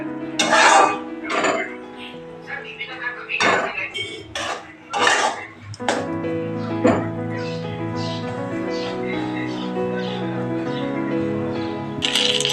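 A spoon stirs dalia in a metal cooking pot, making loud scraping strokes and sharp clanks against the pot in irregular bursts, then a quieter stretch of lighter clinking.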